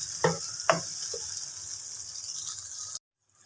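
Okra masala cooks on a high flame, a steady hiss of frying with two sharp clinks of a utensil near the start, then the sizzle runs on alone before cutting off abruptly.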